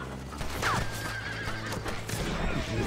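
A horse in Red Dead Redemption gives a loud neigh over steady clip-clopping hooves and a continuous game ambience, with no talk.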